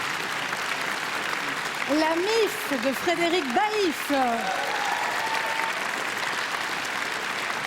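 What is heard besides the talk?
audience applause for nominated films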